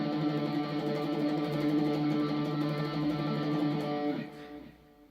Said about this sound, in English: tremolo picking, for those of you who don't know, is basically when you play really fast with your right hand